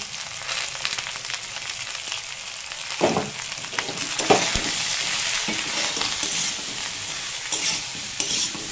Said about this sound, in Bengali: দিয়ে ভালো করে আলু আর ঝিঙেগুলো কষিয়ে নেব।